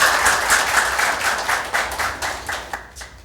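An audience claps and applauds, a dense patter of many hands that gradually thins toward the end, with a few louder individual claps.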